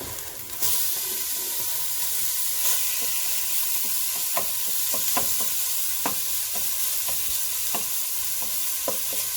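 Beef pieces fry in a hot oiled pan for pot roast, a loud dense sizzle and hiss starting suddenly and running steadily, with sharp crackles and pops scattered throughout, no talking.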